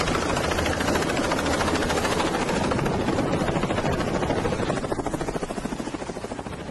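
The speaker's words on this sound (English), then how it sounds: "This helicopter pilot doing a quick drop-off." A helicopter making a quick drop-off, its rotor chopping in a fast steady beat close by and loud, easing slightly toward the end with no voices.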